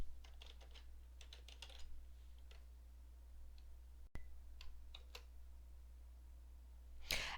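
Fingers type on a computer keyboard, tapping out a URL in quick bursts of soft, close key clicks with short pauses between groups over a low steady hum.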